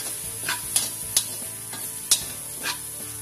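Beef being stirred and sautéed in a pan for a Filipino beefsteak dish, with a steady low sizzle broken by several sharp utensil scrapes and stirs, close and alone with no talk.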